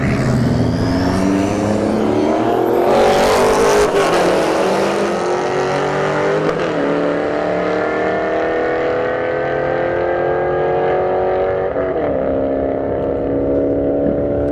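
Loud, roaring drag race between a C5 Corvette and an SRT4 Neon, engines screaming up through gear changes with sharp shifts, then fading as the cars pull away down the track.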